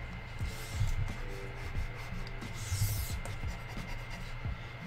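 A brush dabs and rubs white paint into a graffiti stencil, making soft, steady scratchy strokes, close and quiet, with no talking.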